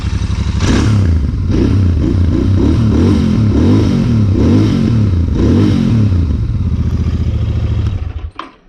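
A Royal Enfield Continental GT 650 twin-cylinder motorcycle idles with a loud, close, lumpy exhaust beat that pulses steadily for several seconds, then cuts off near the end.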